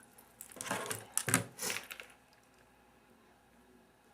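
Scissors cutting through fabric during an appliqué sewing lesson: a few close, crisp rustling snips bunched within about a second and a half, then quiet, with no talking.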